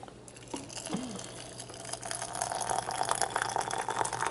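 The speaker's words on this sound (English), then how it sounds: "now I'm going to pour boiling water up to the top" Boiling water poured into canning jars of mushrooms, a faint clink of glass at first, then a rising splashing stream that grows louder and fuller as the jars fill.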